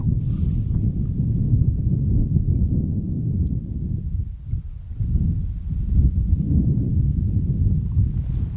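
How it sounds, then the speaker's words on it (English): Strong gusts of wind on a blowy day with forecast 40-mile-an-hour gusts, heavy low rumbling buffeting on the microphone, steady with a brief lull midway before surging again. "It's a bit of a blowy day, and they've forecast 40-mile-an-hour gusts today"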